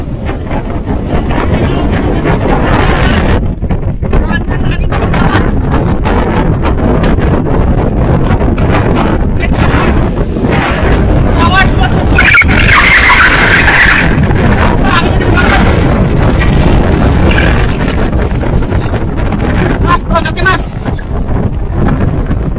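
Strong wind roaring over the summit of Mount Welirang, a loud, constant buffeting blast against the microphone that swells and eases slightly over its length, with voices speaking faintly beneath it.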